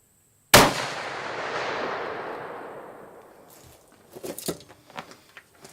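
A single sharp, loud blast from a muzzle loader rifle, followed by a long rolling echo that fades over a few seconds. A few faint shuffles and small knocks come afterward.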